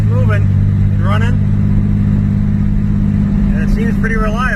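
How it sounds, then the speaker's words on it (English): A worn Chevy S10 pickup's engine idles steadily with a low, continuous rumble close by, running throughout while someone talks over it in brief bursts. "I'm pretty sure it's just the engine itself is a little cooked, but hey, she's running."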